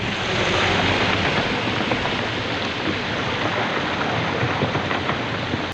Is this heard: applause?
no